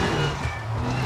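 A damaged Skoda Fabia R5 rally car in the WRC 5 video game on an Italian rally stage sounds rough and strained, a loud continuous engine roar mixed with road and tire noise.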